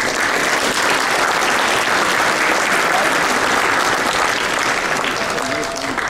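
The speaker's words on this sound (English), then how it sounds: "please help me thank them with a good round of applause" A large audience at a US Muslim community organizations' anniversary gathering claps steadily, a loud, dense round of applause sustained throughout with crowd noise beneath.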